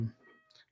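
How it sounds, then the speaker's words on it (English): A cat meowing in a pipe-repair workshop, a short plaintive meow sounding somewhat distant and faint after a brief low thump. "You might hear a meowing cat in the background."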